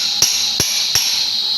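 Three sharp metallic hammer strikes on the lens of a white strainer in a chilled water system, evenly spaced about a third of a second apart, close and distinct over a steady high-pitched machinery hum.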